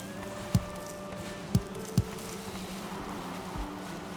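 Bees buzz steadily in the video game Valheim near a hive, a faint continuous drone with a few sharp taps over it, no talking.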